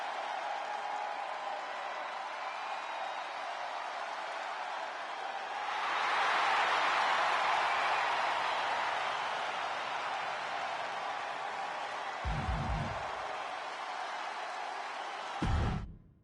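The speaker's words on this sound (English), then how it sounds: "The crowd on their feet." A WWE 2K25 arena crowd roars steadily, swelling louder for a few seconds before settling back into a constant wash of cheering, with a couple of brief thumps near the end.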